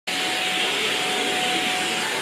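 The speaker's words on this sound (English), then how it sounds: "Hates the Hoover." A household vacuum cleaner runs during a home renovation, a loud, steady whooshing roar that starts abruptly and holds constant throughout, with no talking.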